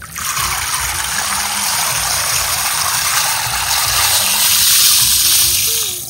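Water runs in a steady trickling pour over biryani rice set to soak in a home kitchen, a continuous close splash lasting several seconds and swelling slightly toward the end.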